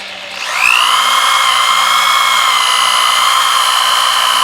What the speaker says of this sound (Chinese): 这个铲形钻头是为了把螺栓的螺母、螺栓的头把它藏进去